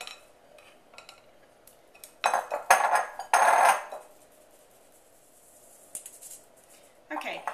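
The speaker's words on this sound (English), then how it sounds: "now I'm just going to simply sift back in the other bowl" Flour being sifted back into another bowl for angel food cake makes scattered metallic rattles and scraping bursts of a sifter against the bowl, moderately close, between quieter gaps.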